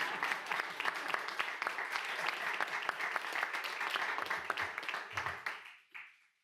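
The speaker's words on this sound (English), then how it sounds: "you can clap to that" An audience applauds at a mayor's childcare and budget announcement, a dense, steady wash of many hands clapping that holds for several seconds before tapering off quickly at the end.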